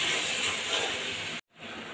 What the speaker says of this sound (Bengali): এবার ওপর থেকে দিয়ে দেবো পেস্ট করে রাখা মশলাটা।